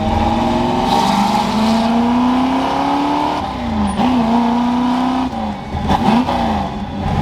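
A 1966 Ford Galaxie with a NASCAR-style Black Widow exhaust and a rebuilt T10 transmission revs up through the gears, its loud, close engine note climbing steadily, then dropping and rising again at each shift.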